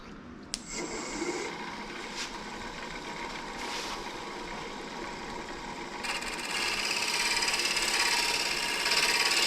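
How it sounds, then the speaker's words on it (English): A lathe tool peels shavings from tiger striped maple being turned into a coin tray, giving a steady scraping, whirring texture that grows louder and brighter in the last few seconds. "You can see the shavings coming off, and they're coming off in a very good way."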